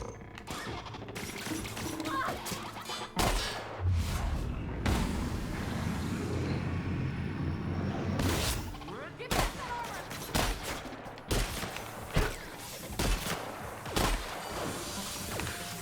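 Shotgun blasts and other weapon fire in the video game The Outer Worlds, sharp irregular bangs with a rumbling stretch in between, with talk in places.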